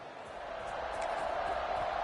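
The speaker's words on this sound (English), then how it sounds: "this crowd is feeling themselves after that last drive" A stadium crowd roars in a college football video game, Southern Miss against UL Monroe at homecoming, a steady, distant cheering wash that swells gradually louder.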